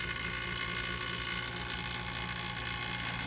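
A vacuum pump pulls a full vacuum on a homemade casting chamber, giving a steady, dense mechanical drone that continues unchanged and fairly loud throughout, with no talk.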